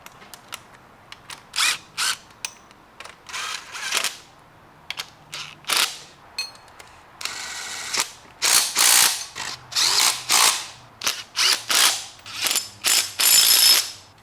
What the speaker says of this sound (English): So let's bolt this pump in, see if it all works.